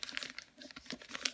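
Paper being folded and creased by hand to make a biodegradable plant pot, a brief close crinkling with a few soft crackles and rustles.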